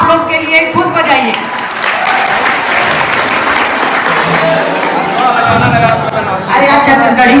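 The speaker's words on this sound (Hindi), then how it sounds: "जोरदार तालियां आप लोग के लिए खुद बजाइए।" College students at a welcome party burst into loud, continuous applause that fills the hall, with voices and chatter mixed in over the clapping.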